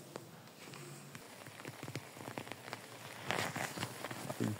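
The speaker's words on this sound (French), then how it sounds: "Il pleut." Light rain falls outdoors in a garden near beehives, soft scattered patter of drops on surfaces, fairly faint, with a few closer taps and rustles.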